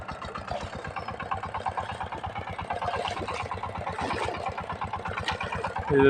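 A Changchai 25 hp diesel engine on a power tiller, running at a steady, rapid thumping idle close by in a waterlogged rice field, loud and alone, with a brief surge at the end.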